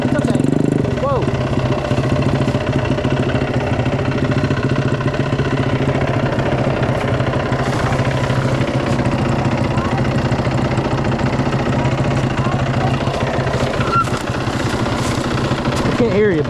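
A dirt bike engine idles loudly and close by, with a steady rough chatter and some small rises in revs, while people talk over it.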